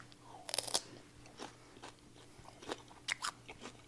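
Crisp, repeated crunching bites of a celery stick topped with almond butter and dried blueberries, close and fairly quiet, with irregular bursts of chewing and no talk.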